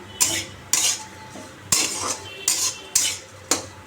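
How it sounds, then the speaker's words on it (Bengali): A metal utensil scrapes and clinks in a pan while lifting out fried potatoes, six sharp strikes in a steady rhythm, close and clear without talk. "আলু ভাজা হয়ে গেছে নাবিয়ে দিই"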